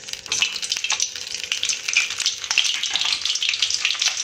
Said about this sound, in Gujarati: આપણું તેલ ગરમ થઈ ગયું છે, આપણે એમાં થોડું બટર એડ કરી દઈશું।